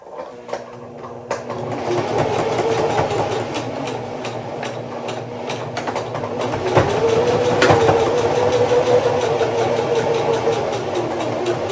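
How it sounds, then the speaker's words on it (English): A sewing machine runs steadily for about twelve seconds, stitching a straight seam down the center of a fabric Christmas tree decoration, with a continuous mechanical hum and no talking. "just sew a straight line down the center of the tree"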